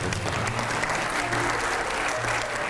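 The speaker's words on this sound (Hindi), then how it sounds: "एक बार जोरदार तालियां हो जाए।" Sustained, dense applause from a large studio audience at a televised Hindi discussion program, steady and loud throughout with no break.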